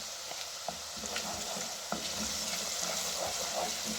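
Onions frying with a pinch of salt in a pan for aloo qeema matar, a steady soft sizzle with light scraping stirs now and then.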